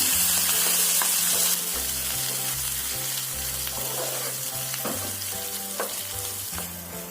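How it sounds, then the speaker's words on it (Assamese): Ground masala paste fries steadily in a hot pan, a dense continuous sizzle with scattered crackles and occasional scraping stirs, close and fairly loud throughout, with a low hum underneath. "এতিয়া মই ইয়াত পিচি ৰখা মছলাৰ পেষ্টটো দিছোঁ। এতিয়া এইখিনি ভালদৰে ফ্ৰাই কৰি দিম।"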